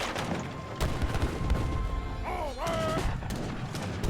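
Mortar and artillery fire in a real-time strategy battle, with repeated booming shots over a dense, noisy combat mix and a brief sliding tonal effect partway through.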